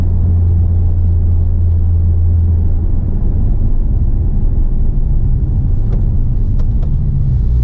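A 2017 Porsche 911 Turbo S on the move, its engine a loud, steady low rumble with road noise, heard close from inside the cabin, with a few brief higher clicks near the end.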